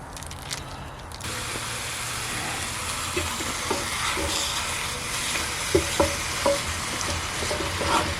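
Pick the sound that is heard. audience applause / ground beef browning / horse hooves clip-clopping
ground beef browning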